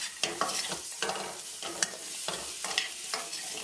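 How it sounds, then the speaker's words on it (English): Crab pieces are stirred through curry in a pan, rhythmic spoon scrapes and clacks over a sizzling hiss, repeating roughly every second, close and without talk. "The whole idea here now is to coat each piece of crab with that niceness from the bottom of the pan there, that curry goodness"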